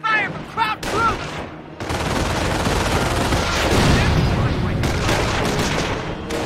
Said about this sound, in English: Position under fire from Kraut troops!